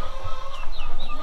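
Chickens clucking inside a barn with goats, a short close burst of soft clucks and chirpy calls.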